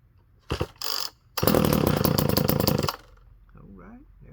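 Vintage Craftsman weed eater with choke set, pulled twice in short bursts before the small two-stroke engine catches and runs with a loud buzzing rattle for about a second and a half, then cuts back to a quiet idle while someone speaks.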